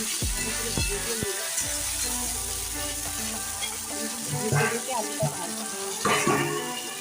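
Cut, washed potatoes drop into hot oil seasoned with whole garam masala and panch phoron. A loud crackling sizzle follows, with a few clinks and stirring scrapes as the frying settles into a steady hiss.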